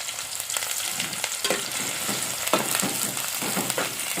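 Onion drops into hot oil for a Konkan wet-cashew usal, setting off a lively crackling sizzle with repeated bursts of stirring and spattering close by.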